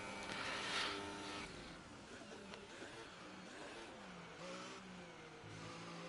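An F4 race car engine in a racing game at Monza, pulling out of the pits with a steady mid-pitched drone that rises and shifts through gears, heard at moderate level beneath faint game ambience.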